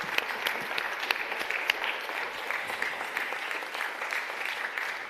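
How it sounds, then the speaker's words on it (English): Conference audience at a development forum session applauding steadily for about five seconds, a dense patter of many hands clapping at moderate distance with no voices over it. "Let's give them another warm round of applause"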